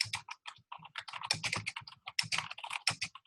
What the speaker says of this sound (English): So somebody's typing there